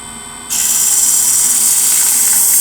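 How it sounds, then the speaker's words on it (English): A polishing lap machine switches on and runs, a sudden steady high-pitched whine and whir that stays loud and even after startup. "So I turn on the machine."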